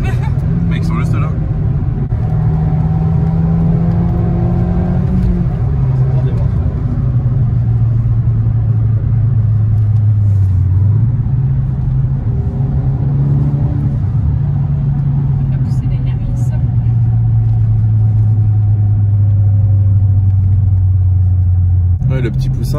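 A Suzuki Swift Sport turbo engine drones steadily from inside the moving car, its pitch rising and falling slightly with throttle, while occupants talk over the constant rumble.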